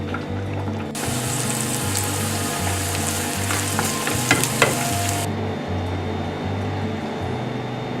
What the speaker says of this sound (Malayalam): ഇത് നമുക്ക് നെയ്യിലിട്ട് വറുത്തുകോരി എടുക്കാം